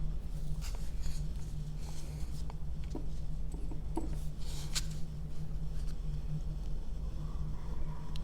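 A brand-new steel calligraphy nib scratches across paper while forming Spencerian script, giving soft, close, intermittent rasping strokes and light ticks over a low steady hum.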